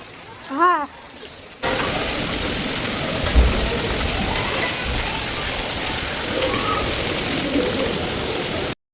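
Heavy rain with hail pelting down during a storm in Vijayapur, North Karnataka, a dense, steady roar of impacts that starts abruptly after a few faint bird calls and holds loud and continuous to the end.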